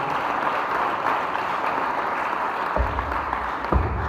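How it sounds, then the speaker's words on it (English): Dense, continuous applause from a sizable audience at a school science and maths quiz, even and sustained, with a few louder thumps near the end. "Let's clap for them."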